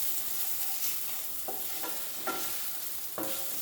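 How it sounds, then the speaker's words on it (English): Masala frying with okra in a pan over a low flame, a steady soft sizzle with a few brief stirring scrapes spaced through it, close and alone without talk. "only the masala has to fry now."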